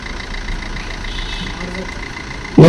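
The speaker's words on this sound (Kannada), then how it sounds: "ಇದು 2014 ಮಾಡಲ್ ಮಾರುತಿ ಸ್ವಿಫ್ಟ್ DDI ಸರ್. ಇದು ಡೀಸೆಲ್ ಇಂಜಿನ್" A 2014 Maruti Swift DDiS diesel engine idling with a steady, even rumble, close by at a car lot, ending in a sudden louder burst of noise.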